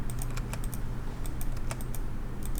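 Rapid, close clicks of keys being pressed on a computer keyboard, several quick taps in irregular bursts over a low room hum.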